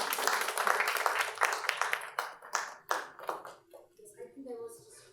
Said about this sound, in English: we can have another round of applause for Oana